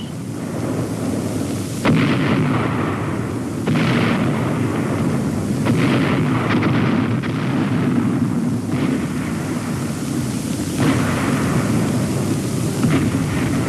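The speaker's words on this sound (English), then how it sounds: "Artillery and mortar fires supported the advance." Heavy artillery and mortar fire sounds as repeated deep booms and rumbling blasts over a continuous dense roar, about seven impacts spread across the stretch, with no voices.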